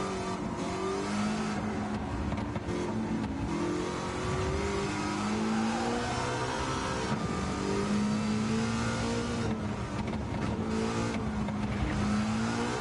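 A high-horsepower old-school car in the racing game Gran Turismo 7 revs continuously, its engine note rising and falling steadily at a loud, constant level with no talking.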